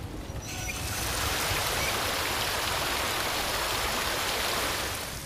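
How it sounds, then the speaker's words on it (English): Water pouring in the video game Resident Evil 2 Remake, a dense continuous splashing rush that starts abruptly and holds steady for several seconds before easing slightly, with no voices. "he just pours water"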